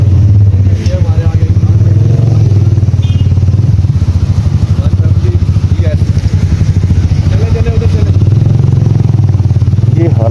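A motorcycle fitted with ropes on its tyres rides a snowy road after heavy snowfall at Kalam, its engine thrumming loud and steady up close with rattling clatter, while someone talks over it.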